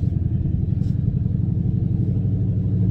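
A steady, low engine rumble from a Dodge Scat Pack 1320 with a faint rhythmic vibration, close and continuous, with no voices.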